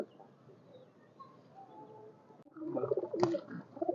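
High flyer pigeons in a loft give soft, low cooing murmurs, faint at first and then louder and closer with a brief sharp sound in the middle; no speech.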